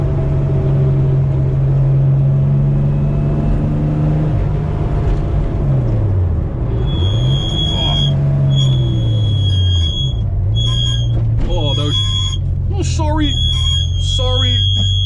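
A 1986 Porsche 911 widebody engine under way while driving, a loud close drone that climbs and drops in pitch through gear changes, with squealing chirps and voices over the second half.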